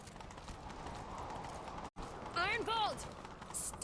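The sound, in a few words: horse galloping in The Witcher 3 video game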